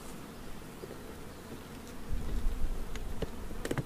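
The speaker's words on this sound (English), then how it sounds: "Bees are all nice and quiet." Honeybees in an open hive full of brood and nectar give a steady, close insect hum that grows louder partway through, with a few soft clicks and knocks over it.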